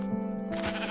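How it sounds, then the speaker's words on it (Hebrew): A Minecraft sheep gives a single short, loud, close bleat with a wavering, nasal tone. "הנה כבשה"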